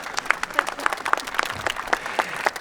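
Scattered applause breaks out at a Canyon Springs High School graduation ceremony as the district superintendent is introduced. Separate sharp claps and a few whoops ring out at moderate volume.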